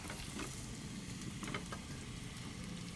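Small chopped onions fry in a pan for a fish curry, giving a faint, continuous sizzling hiss with soft crackles and a little stirring, heard alone at low volume.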